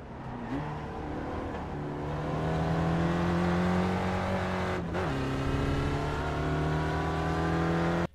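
An SRF race car engine at full throttle in the iRacing sim at Okayama, a loud steady drone that climbs in pitch, shifts briefly, then holds a high sustained roar.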